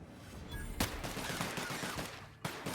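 Gunfire in The Outer Worlds video game, a quiet, rapid fusillade of shots with two sharper cracks standing out, continuous through the moment with no voices.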